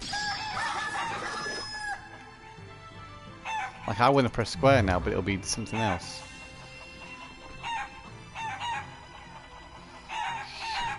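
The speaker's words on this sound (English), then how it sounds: "Chickens." Chickens clucking and a rooster crowing in the video game Shenmue 3, bursts of loud crowing and clucking mixed with game sounds while someone talks over part of it.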